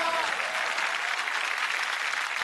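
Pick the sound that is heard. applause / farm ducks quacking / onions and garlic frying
applause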